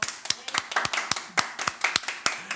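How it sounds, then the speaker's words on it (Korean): Sharp, close handclaps in an irregular rhythm, a small church congregation applauding during a Sunday service, crisp individual claps standing out clearly. "우리 박수로 하나님께 영광 돌릴까요?"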